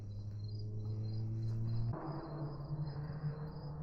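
Crickets chirp in a steady high trill throughout at a campsite on the Appalachian Trail, heard faintly alongside a low motorcycle engine drone that shifts partway through.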